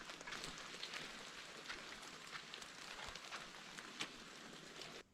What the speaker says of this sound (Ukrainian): Дощ так і йде, не перестає